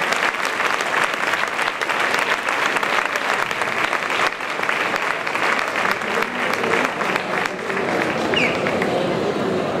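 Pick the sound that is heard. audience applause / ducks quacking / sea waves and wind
audience applause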